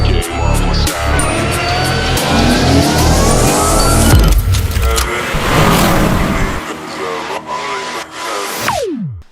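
A car engine revs hard and close, roaring loudly for several seconds before easing off, then ending in a sharp falling whine.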